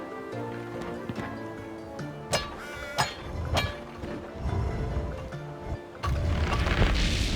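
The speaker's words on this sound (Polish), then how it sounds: "to wybuchło coś" A Trine 5 video game scene with clattering hoofbeat-like thuds and a few sharp bangs, ending in a loud, rushing explosion burst.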